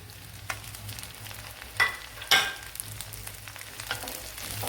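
Sliced onion and green chillies sautéing in a pan, a close steady sizzle with a few sharp scrapes of the spoon as they are stirred.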